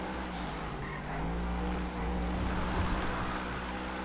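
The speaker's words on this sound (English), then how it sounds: "there's a car I can see coming up" Engine roar from race cars and off-roaders in a racing video game, a continuous loud motor drone with shifting pitch as another car closes in and passes nearby.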